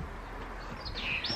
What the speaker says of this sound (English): Not sure if you can hear the birds singing.